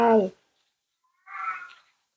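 A cat meows once nearby, a short, moderately quiet call after a brief burst of voice.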